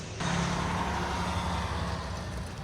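A delivery truck drives away after dropping off a 120-gallon air compressor, its steady engine rumble loud and close, then easing slightly as it pulls off, with no voices.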